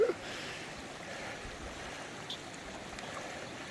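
French Creek flows across a hiking crossing on the Centennial Trail in South Dakota, a steady, soft rushing of water with faint wind, continuous and fairly distant throughout.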